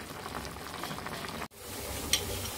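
A Filipino tilapia sarciado sauce, made with three large tilapia pieces, boils in a full pan, giving a steady soft bubbling sizzle with one brief dropout midway.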